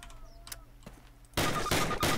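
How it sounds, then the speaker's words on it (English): A Thompson submachine gun fires in the WW2 shooter Call of Duty, a loud rattling burst of rapid shots close up after a quieter moment. "Fire 3 more rounds at your target."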